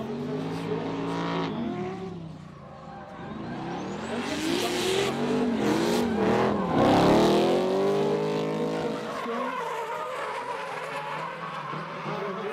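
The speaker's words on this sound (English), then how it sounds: "Rafael Zanato on the black Camaro chased by Philippe Ferreira on the blue BMW PF Motorsport" A black Camaro and a blue BMW drift car battle in tandem at a French drift championship round in Tours, engines wailing and revving up and down as tyres squeal, the cars sweeping close past.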